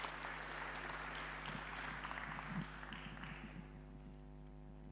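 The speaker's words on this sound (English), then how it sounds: "Allow me to ask you to applaud, give them a round of applause" Applause from a workshop audience on energy efficiency for the panelists, a dense round of clapping in a hall over a steady electrical hum, gradually thinning and fading toward the end.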